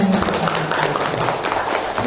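Audience applause at the close of a talk in an Indonesian hall: a continuous, fairly loud spread of clapping from a crowd, with faint voices mixed underneath.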